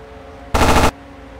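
A single short burst of aircraft machine-gun fire in the Aces High flight combat game, loud and close, a rapid rattle of shots lasting under half a second over a steady engine drone before and after.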